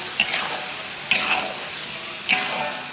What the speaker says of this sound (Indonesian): Aku akan tumis bumbunya sampai layu dan harum.